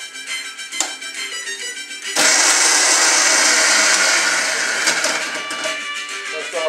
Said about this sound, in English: So I'm gonna let the Vitamix chop it up.